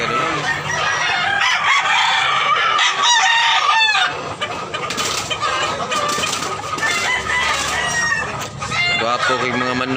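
Kanawayon roosters crowing near and loud, repeated overlapping cock-a-doodle-doo calls mixed with clucking from several birds, with a voice briefly underneath.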